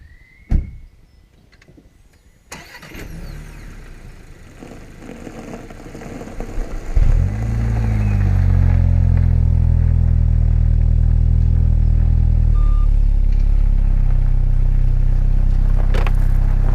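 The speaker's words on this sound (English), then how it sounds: "Let's go and drive the Golf 8 on some wonderful Warwickshire country roads" A VW Golf Mk8 sets off on Warwickshire country roads: a door thuds shut, then the engine and road noise build into a loud, steady cabin rumble that holds to the end.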